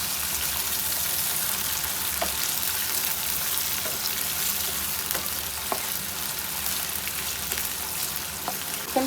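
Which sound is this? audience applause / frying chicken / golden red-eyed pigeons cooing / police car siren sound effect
frying chicken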